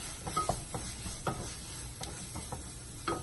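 Chilli and turmeric powder stirred into onions and tomatoes in a pan for chicken salna: a few light spatula scrapes and taps over a quiet, steady sizzle, close up and without talk.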